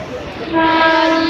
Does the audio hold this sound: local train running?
yes